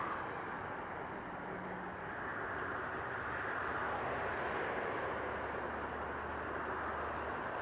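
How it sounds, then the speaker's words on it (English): A Hawaiian Airlines Airbus A330 airliner at Las Vegas Harry Reid International Airport gives a steady, broad jet roar at moderate distance, swelling slightly midway and holding through the whole stretch. "we got that Hawaiian Aerolíneas A330"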